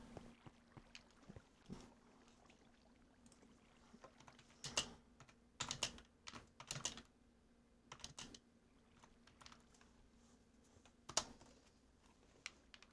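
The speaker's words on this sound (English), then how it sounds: "I'm just typing in the chat real quick." Keys on a computer keyboard are typed into the chat of a Minecraft game, giving faint, irregular clusters of clicks in quick bursts with pauses between, over a low steady background hum.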